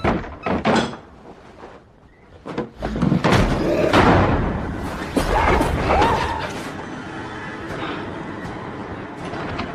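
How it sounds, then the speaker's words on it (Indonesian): Heavy pounding on a window in the horror film The Turning (2020): several loud, irregular thuds and bangs in quick bursts over a dark, rumbling film score, with the blows clustering near the start and middle. "Ia pun terkejut karena jendela digedor-gedor"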